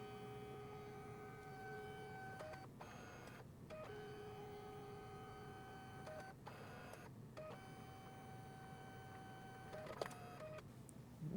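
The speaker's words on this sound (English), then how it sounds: "Now it's going to do a couple of color passes. That's how this kind of printer works." A photo printer makes color passes, sped up, giving a faint, steady mechanical whir with tonal hums that stop and restart in several repeated cycles.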